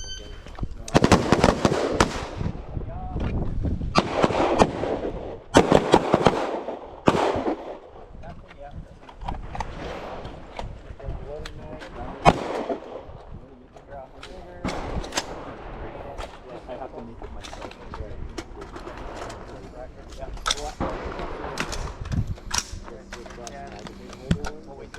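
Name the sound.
pistol gunshots at a shooting range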